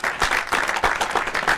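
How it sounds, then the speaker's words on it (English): A canned applause sound effect fires from a soundboard on a podcast, a short burst of rhythmic clapping with a few distinct pulses, fairly close and alone. "The applause. I knew better than to get rid of this one."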